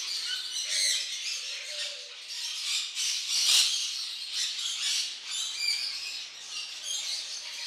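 A pet bird squawks and chirps in repeated loud, close bursts while being handled to remove a swallowed tube from its stomach.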